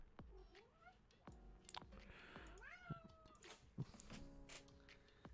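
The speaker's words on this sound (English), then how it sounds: "My cat is meowing." A house cat meows several times indoors, rising and falling cries spread across a few seconds, fairly close but quiet, with faint background sounds.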